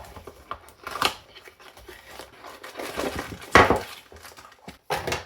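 Scissors slice through the single strip of tape sealing a D-Link DCP-651 65W GaN charger box, making a few short, close snips mixed with crinkling cardboard and rustles.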